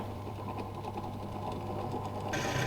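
A steady mechanical whir of an electric drill boring a hole in a motorcycle tow hitch bar with cutting oil, continuous and fairly loud, with a harsher hiss rising at the end.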